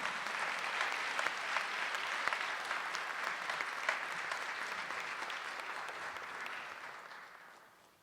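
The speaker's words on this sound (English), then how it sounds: "Let's have a big round of applause for these outstanding educators for 2015" Steady, dense applause from a large audience at the 2015 Kia Outstanding Educator awards ceremony, honouring the educators; it holds evenly for several seconds, then tapers off toward the end.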